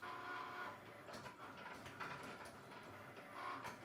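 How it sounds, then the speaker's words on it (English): A Cricut cutting machine scans registration marks on printable heat transfer paper and cuts out a design, producing a faint, continuous mechanical whir with soft shifting movements. "Your machine will use a little light to scan the registration marks in the corner of your page, and then it will cut out your design."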